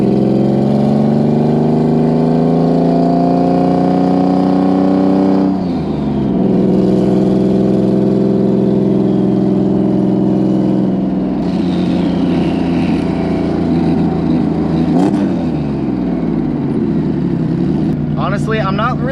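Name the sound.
Subaru WRX STI flat-six car driving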